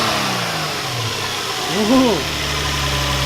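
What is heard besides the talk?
Infiniti G35 engine revving with budget aftermarket intake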